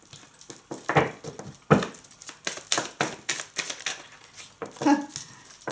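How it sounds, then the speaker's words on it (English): Quick papery riffling and soft slaps as a deck of tarot cards is shuffled up close, in several uneven bursts with short pauses between. "Just give these a shuffle up."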